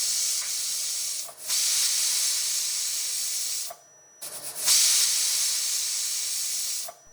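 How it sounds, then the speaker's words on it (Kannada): A pressure cooker of methi pulao whistles as steam escapes. It gives two long, loud hissing blasts, each lasting a few seconds, with a short pause between them and no talking. "ನಂತರ ಲಿಡ್ ಕ್ಲೋಸ್ ಮಾಡಿಬಿಟ್ಟು ಇದನ್ನು 3 ವಿಷಲ್ ಕೂಗಿಸ್ಕೊಬೇಕು"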